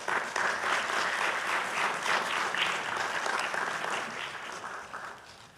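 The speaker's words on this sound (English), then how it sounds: "let us give them again a round of applause" An audience at a school literary competition award ceremony breaks into steady, dense applause that holds evenly for several seconds and then begins to thin and fade toward the end.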